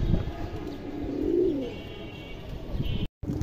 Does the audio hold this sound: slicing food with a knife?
no